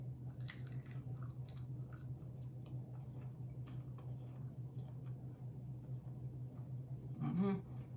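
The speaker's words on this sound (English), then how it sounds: "I'm going to just taste the nugget" Someone bites and chews an Aldi chicken nugget, white-meat and still a little hot, with faint soft chewing clicks over a steady low hum and a brief murmur near the end.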